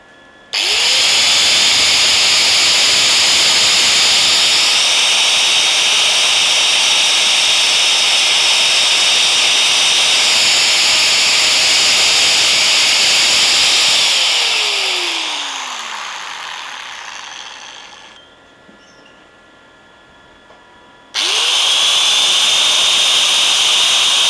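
A DOLIZ BA730 angle grinder runs with its air filter covered, giving a loud, steady high-pitched whine that spools down and falls silent, then starts up again sharply near the end.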